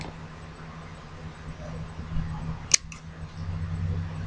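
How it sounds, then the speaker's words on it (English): Scissors snip through a piece of canvas being trimmed down for a small craft cross, giving one brief, crisp cut over a quiet room hum. "So go ahead and cut your canvas."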